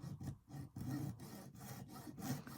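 Small dollhouse bed pieces being cut off with a hand saw, a quiet close run of about five rhythmic back-and-forth sawing strokes with short pauses between them.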